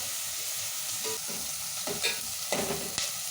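Tomatoes and onions sizzle steadily in a hot frying pan while a spoon scrapes and stirs them in a few distinct strokes, close and without speech.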